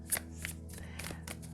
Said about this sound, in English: this is how I shuffle